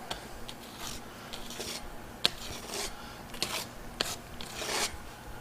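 A spatula scrapes grassello lime Venetian plaster across a wall in close, soft rasping strokes, with repeated sweeps broken by small sharp ticks.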